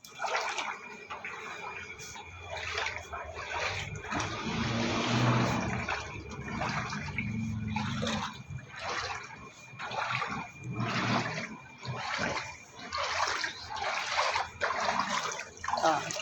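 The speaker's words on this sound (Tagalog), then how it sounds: "Mabagal din umagos yung tubig kasi baha pa rin dun sa may bandang dulo." Floodwater running slowly along a low-lying residential street, a steady broadband wash of flowing water that carries on throughout, with voices talking over it at times.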